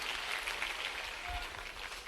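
An audience at a Bhopal agricultural innovation dialogue event with students applauds a student, producing a steady, dense wash of clapping throughout, moderately loud and without speech.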